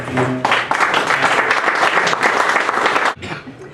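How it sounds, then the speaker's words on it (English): Audience applause welcoming a guest speaker at a Rotary Club meeting in Canfield, steady dense clapping from a room of people that stops abruptly near the end. "Round of applause."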